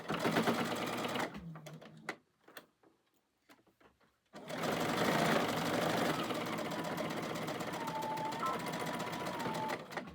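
A home sewing machine runs steadily, top stitching a fabric bowl coozie, with a busy mechanical whir that stops for a couple of seconds of near quiet and then resumes for a long, even run.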